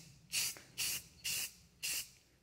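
Aerosol spray can applying pink paint to 1911 pistol grips indoors, four short close hissing bursts of about a quarter second each, evenly spaced with brief quiet gaps.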